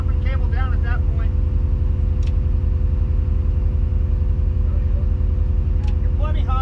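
Crane engine droning loud and steady while booming up and lowering its cable to lift a grain bin, with a deep continuous rumble throughout and brief talk over it at moments.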